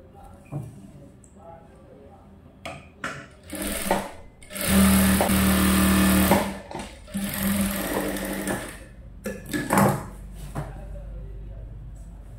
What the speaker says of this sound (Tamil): 2 இன்ச்சு மடித்து அடிக்கிறோம்.